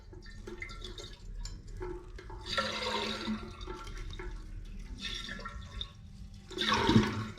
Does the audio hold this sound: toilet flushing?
yes